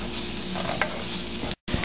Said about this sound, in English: I will fry these spices till oil starts to separate from the spices